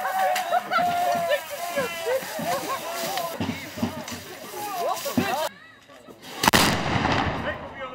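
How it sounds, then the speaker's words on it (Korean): Cannons fire loud booming blasts repeatedly outdoors in Luxembourg at a Napoleonic war reenactment amid crowd chatter, followed by a pause and one more heavy, ringing explosion. "정말로 대포를 쏘니 귀가 멍멍해진다."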